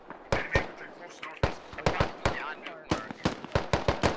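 Rapid bursts of rifle fire and sharp single shots in the military shooter Squad, some close and punchy, others more distant, crackling in uneven clusters over faint background.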